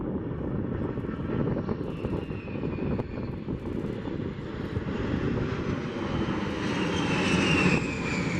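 A-10 Hog attack jets sweep past in a show-of-force flyby at an airshow, a loud, sustained engine roar with a rising whine that swells toward the end, no talk over it.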